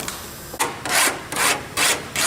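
A cut edge on an aircraft fin fairing is dressed and deburred by hand with rhythmic, rasping strokes, about five loud scraping passes in a steady back-and-forth rhythm close by.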